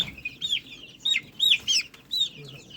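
Young desi chickens, about 28 days old, give a run of short, high chirping clucks in quick bursts, close by and fairly clear over a quiet background.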